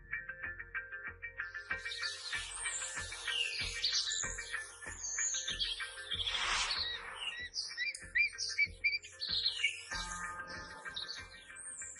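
Calls of a wedge-tailed eagle: repeated sharp chirps and squawks, some rapid trills, over a steady background of insect-like buzzing, continuing for several seconds with no talk.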